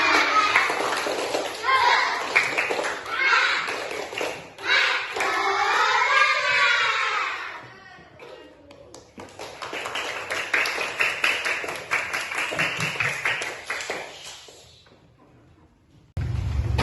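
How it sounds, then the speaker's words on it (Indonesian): Elementary school children in a classroom clapping and chanting a rhythmic 'tepuk semangat' cheer, quick clap patterns mixed with group voices, then a pause before more clapping and chatter. "kita tepuk semangat dulu yuk"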